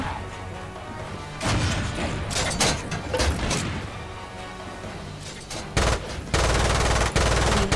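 Rapid bursts of gunfire from a regular gun in the video game Lost Planet 2, loud and close, with repeated volleys, crashing impacts and a sustained final stretch of fire.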